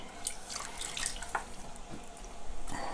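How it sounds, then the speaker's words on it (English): A gallon of water is poured in to top up a 5 to 6 gallon batch of peach tea wine, giving a steady splashing, tap-like flow with occasional drips and no voices. "We need to go ahead and add 1 more gallon of water."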